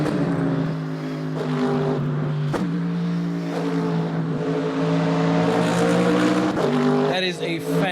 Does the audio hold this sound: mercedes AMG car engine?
yes